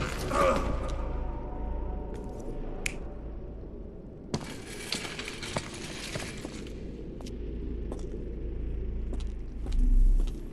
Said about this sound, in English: Doors can be opened for deliveries.